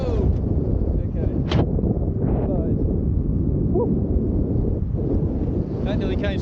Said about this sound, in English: Oh, some weird little north gust.